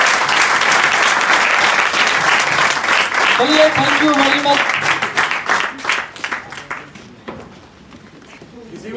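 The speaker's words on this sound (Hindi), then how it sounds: "तो इन टीम लीडर्स के लिए ताली बनती है" Audience at a Vestige team training session applauding its team leaders, loud sustained clapping that thins and fades out as a voice speaks over the final seconds.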